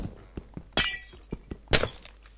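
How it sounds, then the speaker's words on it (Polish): Glass blocks being broken in Minecraft: a series of faint soft taps followed by two loud, crisp shattering bursts about a second apart, with no talking. "Tak, wiem, że rozwalam właśnie szkło."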